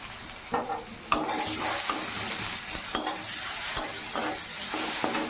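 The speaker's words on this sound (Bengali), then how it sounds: "টমেটো আর জিরে গুঁড়ো ধনে গুঁড়ো দিয়ে ভালো করে কষিয়ে নেবো" Tomato fried with cumin and coriander powder in oil, a dense steady sizzle with repeated scraping stirs and occasional spoon taps against the pan, no voices.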